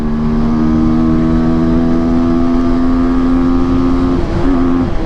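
A 2025 TVS Apache motorcycle in sports mode accelerates hard through the gears, engine whine climbing steadily in pitch before a brief dip at a shift, loud and close with no talk.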